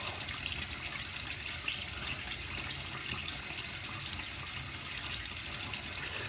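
Tap water runs and splashes steadily as a man wets the sides of his face and neck before a shave with Stirling Scots Pine Sheep soap. The sound is close and continuous, with no talking.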